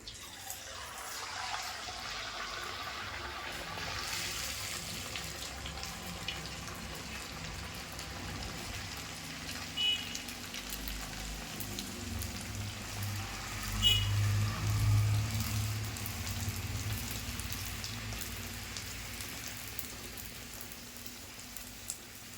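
Rice vadas (bhatache vade) frying in hot oil in a home kitchen, a steady soft bubbling sizzle throughout with a slightly louder surge midway, no voices.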